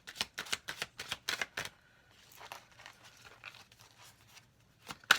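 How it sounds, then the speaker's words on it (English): A deck of playing cards is riffled and shuffled in a series of quick, crisp bursts, close and fairly loud, followed by softer rustling and sliding cards, then one more sharp snap at the end. "So you don't see all this shuffling going on."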